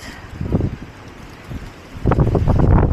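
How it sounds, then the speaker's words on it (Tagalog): Strong wind blows outdoors at Hakone, buffeting the microphone with a deep, rumbling roar that swells in gusts and grows louder toward the end. "Ang lakas ng hangin eh."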